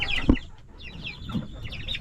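About ten chickens clucking softly nearby inside a coop, a few short low clucks mixed with higher chirping calls, with no talking.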